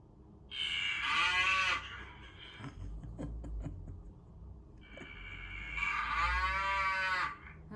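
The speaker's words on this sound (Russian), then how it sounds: "Корова." Two long, loud cow moos, one near the start and one near the end, with quieter rustling and low farmyard noise in between.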